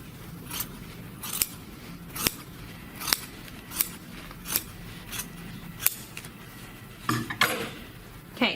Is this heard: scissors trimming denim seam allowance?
yes